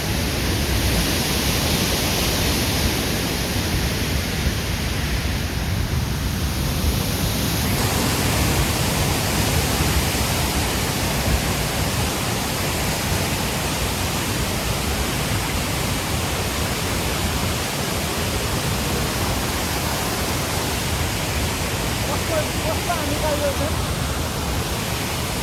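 Rupse waterfall in Nepal, a loud, steady broadband roar of falling water heard close by, unbroken for the whole stretch, with a faint high tone fading out early on.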